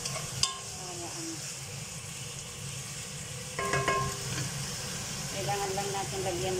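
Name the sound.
stirring bitter gourd and sliced pork frying in a pan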